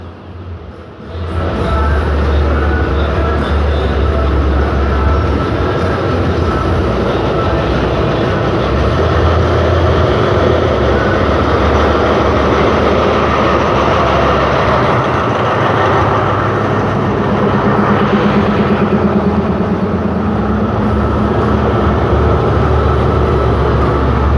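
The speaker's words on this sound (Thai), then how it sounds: "ค่อยๆ เคลื่อนขบวนออกแล้วนะ" A loud, steady rumble of a heavy diesel express train with an MTU engine pulling away from Bang Bamru station, Thailand, engine drone and wheel noise filling the scene continuously and close by.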